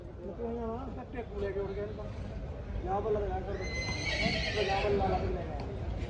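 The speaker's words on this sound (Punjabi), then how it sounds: "ਇੱਕ ਆ ਘੋੜੀ ਦੇਖੋ ਦੋਸਤੋ ਮੱਥੇ ਫੁੱਲ ਦੀ" A mare whinnies in a rising, shaky neigh toward the end, over steady background noise and faint voices at a livestock market in Jagraon.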